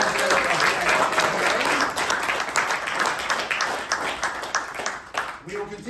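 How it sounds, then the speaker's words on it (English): Audience applause at a membership meeting honoring a departing president's four years of service, a steady dense wash of clapping filling the room, with a voice speaking over it toward the end. "can we have a big round of applause for the 4 years of service that Michael Dillinger put in as president"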